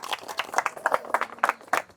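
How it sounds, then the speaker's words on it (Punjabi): A small group claps for Prince's birthday at a Sikh community gathering, giving about a dozen crisp, slightly uneven hand claps close by in a brief burst. "ਤਾੜੀਆਂ ਮਾਰ ਦੋ ਵੀ ਪ੍ਰਿੰਸ ਲਈ ਸਾਰੇ ਜਣੇ"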